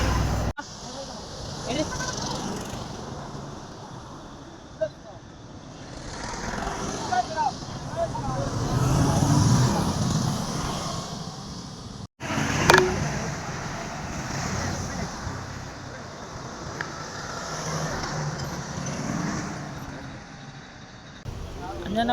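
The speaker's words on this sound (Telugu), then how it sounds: "బండ్లు అయితే ఘోరంగా పోతున్నాయి విపరీతంగా బండ్లు అయితే ట్రాఫిక్" Steady stream of motorbikes and vehicles rushing past on a busy roadway during a foot pilgrimage to the Kondagattu Anjanna temple, a continuous loud rumble with wind buffeting and occasional louder passes, with people talking throughout.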